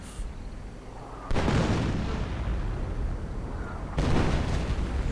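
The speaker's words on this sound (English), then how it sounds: "And more artillery getting called in." Artillery fire in a 1v1 real-time strategy video game: two heavy, loud booms a few seconds apart, each a deep broadband blast with a long rumbling decay over a low battlefield background.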